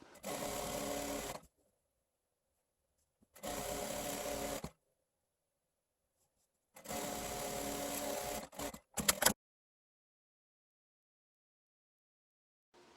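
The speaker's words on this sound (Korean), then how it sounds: "옆선 오버록 해서 박음질 하고요. 옆선 이어서 박음질하고" A sewing machine stitches the overlocked side seams of a simple dress in three steady bursts of about a second and a half each, separated by silence, then a short stuttering run. It is close and clear, with no talk.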